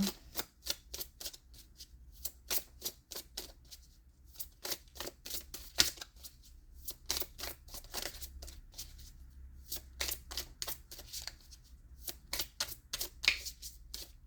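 A deck of colour oracle cards shuffled by hand, giving rapid, dry riffling clicks in repeated bursts with short pauses between, close and fairly quiet, no talk.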